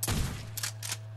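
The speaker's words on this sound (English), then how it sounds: "Thompson, three shots" A Thompson gun fires in a Nazi Zombies video game, three quick sharp shots: one heavy burst at the start, then two lighter cracks spaced about a quarter second apart.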